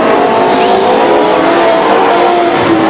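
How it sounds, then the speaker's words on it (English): Race cars roaring around the Stockton 99 Speedway oval as one spins out in front of the pack, a loud, continuous engine drone with faint tire squeal blended into the steady roar. "And now Youngblood spins in front of the pack"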